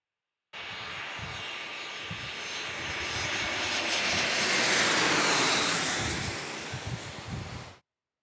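An American Airlines A321 jet passes at San Diego airport, its engine roar rising to a loud peak midway and then fading, with no voices.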